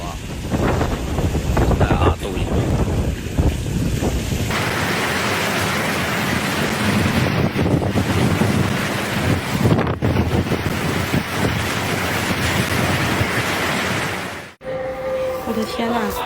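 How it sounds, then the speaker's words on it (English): Strong typhoon wind roars outside a room during a storm in Guangdong, a loud, continuous broadband rush and buffeting that fills the whole stretch, with brief drops near the end. "the wind is so strong outside"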